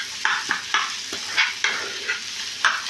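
Ingredients stirred and mixed in a frying pan over a low sizzle, with regular spatula scrapes roughly every half second, close and fairly loud, no voices.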